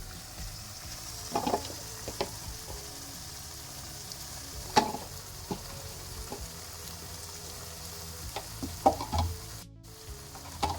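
Ground masala paste sizzles softly in a pan for mutton curry as homemade chilli powder goes in, a low steady crackle with occasional sharp spatula knocks.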